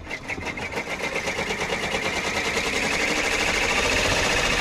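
Sewing machine stitching an embroidered book cushion, a steady fast mechanical whirr with rapid needle rhythm that runs continuously and grows slightly louder, close by with no talking.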